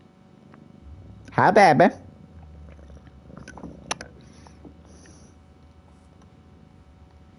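Soft, low purring from a cat runs steadily through the moment, with a person briefly speaking affectionately over it near the start.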